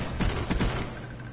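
Video game M16 rifle fire: a short burst of three or four quick, sharp shots close up, ringing out briefly afterward.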